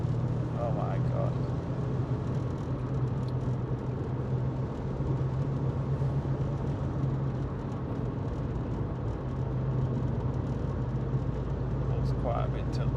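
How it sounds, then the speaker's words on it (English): Steady loud engine drone from a car with a severe turbo boost leak, heard from inside on a track, a constant low hum and rumble holding evenly throughout with no breaks. "That's like a severe boost leak."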